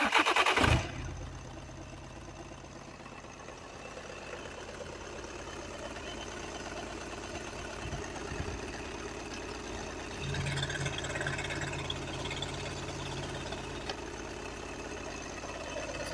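A 2011 Volkswagen Passat B7 with a 2.0 TDI diesel engine starts with a short loud crank and catch, then settles into a steady idle. The engine stays alone and fairly near. The idle note shifts slightly partway through.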